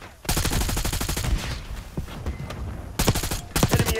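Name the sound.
gunfire in Call of Duty Black Ops 6 video game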